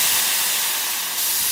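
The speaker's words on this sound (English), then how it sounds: "A hiss and a hot flash of steam released from the spirit" A loud, continuous hiss of steam released from a spirit, close and unbroken for its whole brief length with no other sounds or voices.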